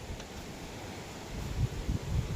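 Strong wind blowing outdoors, a steady broadband rush with low gusting rumbles that build toward the end, like buffeting against a microphone, with no voices heard.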